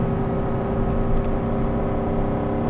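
Tow vehicle engine pulling an Imagine XLS 17MKE travel trailer up Temple Mountain at 4,000 RPM and about 40 mph: a loud, steady, strained drone with road rumble, continuous and unbroken, no voices.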